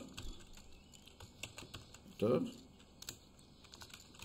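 Someone types a file name on a computer keyboard, producing quick irregular key clicks at close range with one heavier tap midway, while a quiet voice speaks faintly in the background.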